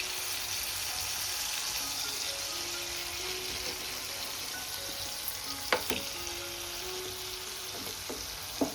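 Boal-style fish fry in a pan, actually pieces of fish frying over low gas, giving a continuous even sizzle with a couple of sharp clinks as a piece is turned over.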